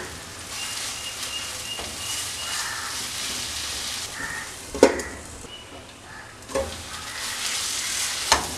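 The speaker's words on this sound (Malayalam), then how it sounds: "ഇടയ്ക്കിടയ്ക്ക് ഒന്ന് തുറന്ന് നോക്കി ഇളക്കി കൊടുക്കണം കേട്ടോ." Chicken masala sizzling and frying in a pan, stirred now and then, with a steady hiss broken by a few sharp scrapes and knocks of the spoon against the pan.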